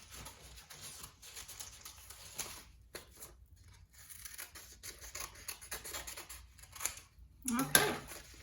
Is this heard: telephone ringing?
no